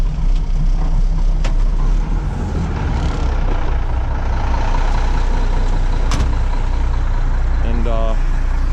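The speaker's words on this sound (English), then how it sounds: "We'll get Ronnie's fired up for him here and running" A truck's diesel engine runs with a loud, constant low rumble in a rainy truck yard, staying steady throughout, with a brief high beeping near the end.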